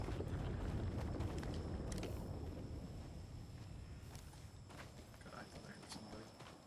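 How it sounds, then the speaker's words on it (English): Character footsteps in the video game Apex Legends, a quick run of crisp rhythmic steps over a windy game backdrop, fading somewhat toward the end, with a voice in the mix. "That's the problem with this game, with Footsteps, is sometimes it's hard to tell if you're only hearing your own or if you're hearing somebody else's"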